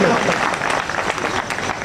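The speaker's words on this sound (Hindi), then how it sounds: "तालियां कमजोर बजाते हैं आप लोग।" Audience clapping at a Hindi poetry gathering (kavi sammelan) at a fair, a brief thin round of applause that fades quickly, with a voice speaking over it.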